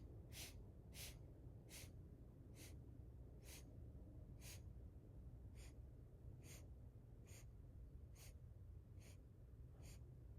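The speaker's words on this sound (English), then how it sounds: "Feel the air moving in and out of the nose." A series of quiet, short sniffs through the nose repeats at a steady rhythm over soft background hiss.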